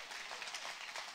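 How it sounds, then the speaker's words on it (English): A church congregation claps together in a dense burst of applause, brief and moderately distant, with no talking. "clap like I'm preaching better than you're clapping"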